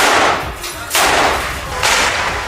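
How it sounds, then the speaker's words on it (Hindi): Several rounds of gunfire from Israeli soldiers in Gaza, heard as three sharp, loud cracks about a second apart, each trailing into a long noisy echo. "उन्होंने कई राउंड फायरिंग की।"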